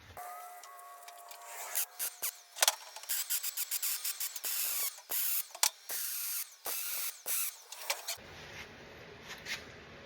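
Arc welding on a steel steer stick for a bowfishing boat, heard as an irregular run of loud crackling, sputtering bursts close by, broken by short gaps, with a quieter hiss near the end.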